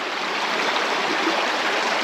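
Water from a weir flows steadily round a bend in a channel, a loud, close, unbroken rushing stream with no voices over it.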